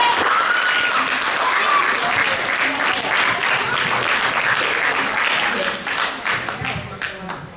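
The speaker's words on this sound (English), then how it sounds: "let's go ahead and give a round of applause for Mr. Elijah Brown." A school audience applauds a speaker with loud, crowded clapping and some cheering voices, strong at first and then tapering off toward the end.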